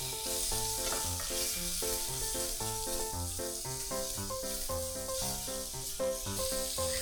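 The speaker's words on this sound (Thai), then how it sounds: "ผัดให้หอมเลยนะครับ พริกกระเทียมของเราก็หอมแล้วนะครับเดี๋ยวเราใส่กุ้งตามลงไปเลย" Chili and garlic stir-fry in a hot wok with shrimp going in, a steady close sizzle and hiss running the whole time under a rhythmic musical backing.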